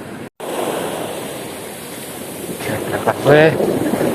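Steady roar of surf and wind at a sea fishing spot as boats head back, with a short harmonic call or engine whine rising near the end.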